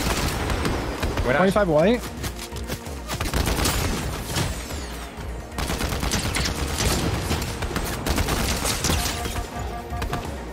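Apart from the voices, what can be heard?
gunfire in a video game, Fortnite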